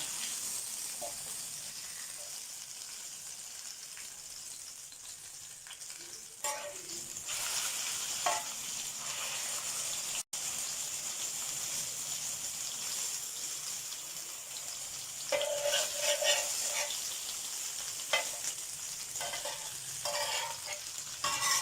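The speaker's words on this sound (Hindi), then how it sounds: "देखिए इसमें घुमाती जा रही हूँ और फ्राई करती जा रही हूँ।" Chicken leg pieces sizzle steadily in hot oil on a tawa for a Lahori-style barbecue, with a continuous close crackle broken by scraping and clattering bursts as the pieces are turned and stirred.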